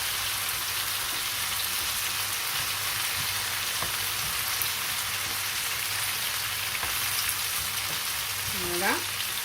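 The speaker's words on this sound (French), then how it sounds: "Il faut bien laisser cuire les pommes de terre." Potatoes frying in a pan, partly cooked, with tomatoes just added for a crustless pizza: a constant, close crackling sizzle with a few faint clicks and scrapes and a short rising squeak near the end.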